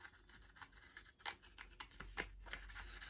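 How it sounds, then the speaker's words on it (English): Scissors slowly and gently squeezing through paper, making a series of soft, crisp snips and rustles spaced irregularly at close range, with faint background hum. "my scissors stays in the same place as I very gently squeeze"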